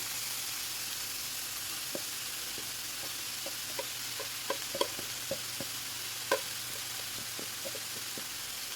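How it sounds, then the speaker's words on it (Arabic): Minced meat with spices and salt sizzles steadily in a hot pan while a spoon stirs it, giving soft scraping knocks over the constant frying hiss. "اديها تقليبه مع التوابل والملح"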